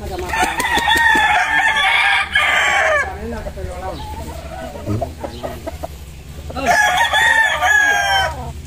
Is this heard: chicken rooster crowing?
yes